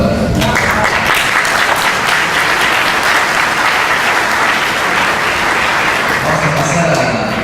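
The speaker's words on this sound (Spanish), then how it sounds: "Un aplauso para..." An audience at a round-table science and technology policy session gives sustained applause, dense and loud clapping filling the hall evenly for several seconds.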